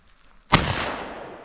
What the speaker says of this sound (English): I'm gonna fire some bird shot through it